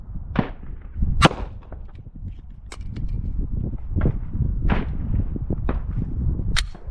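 Handgun shots fired during a live-fire circle target drill outdoors, several sharp reports spaced irregularly over a few seconds, with some rustling and movement between them.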